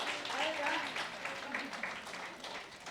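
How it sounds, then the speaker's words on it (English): Audience applause for conference panelists at a feminist solidarity panel, a dense steady wash of many hands clapping throughout, fairly loud and close, with scattered voices and cheers mixed in. "Clap for all of them."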